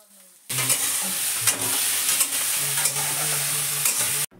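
Bitter gourd, pumpkin, potato and carrot frying in oil, a steady close sizzle with occasional stirring clinks, continuous and alone without talk.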